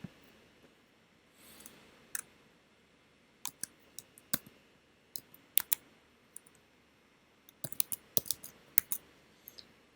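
Computer mouse clicks, crisp and isolated, tapping out irregularly across a quiet room, sometimes in quick clusters, with no talk.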